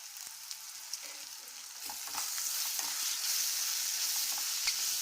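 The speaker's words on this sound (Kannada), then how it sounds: "ಬದನೆಕಾಯಿ ಹಸಿ ಬಟಾಣಿ ಎಣ್ಣೆಯಲ್ಲಿ ಚೆನ್ನಾಗಿ ಹುರ್ಕೋಬೇಕು" Brinjal and green peas frying in oil in a pan make a steady crackling sizzle with faint stirring scrapes, growing slightly louder partway through, with no voices.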